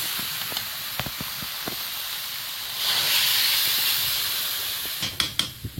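Prawns frying in a pan hiss loudly as water is poured in, a steady broad sizzle swelling midway and then settling, with a few sharp clicks and knocks of utensils near the start and end.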